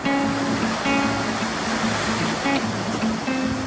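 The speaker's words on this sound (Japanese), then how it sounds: "今あそこにいれば乗れそうな綺麗な波がブレイクしましたが、ややダンパー気味で面があんまりないですね。" Ocean waves breaking at a surf point on a morning session, a continuous broad wash of surf roaring steadily, with faint tonal hum from a nearby boat or engine underneath.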